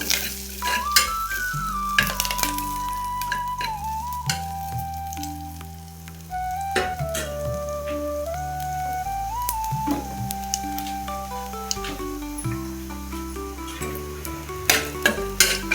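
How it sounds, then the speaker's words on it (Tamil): Cashews roast in a pan for ven pongal with a constant sizzle and occasional stirring clinks, all under a melodic tune. "முந்திரி செவக்கட்டும்"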